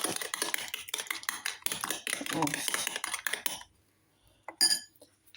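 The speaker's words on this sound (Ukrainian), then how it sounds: "І зараз одне яйце, трошечки зіб'ю. Ну, так, не зіб'ю, перемішаю" A spoon rapidly taps and scrapes against a bowl while beating an egg, a quick irregular clinking for a few seconds that stops abruptly, followed by one brief clink.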